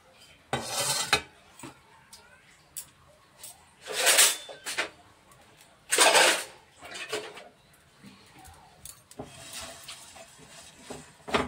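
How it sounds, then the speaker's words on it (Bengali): Cardamom, cinnamon and dried red chillies are dry-roasted in a dry pan, with scattered clinks and scrapes of a utensil against metal in short bursts separated by quiet gaps. "শুকনো খোলায় আমি এগুলো দিয়ে দিলাম।"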